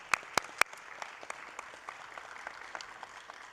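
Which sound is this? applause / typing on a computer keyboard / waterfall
applause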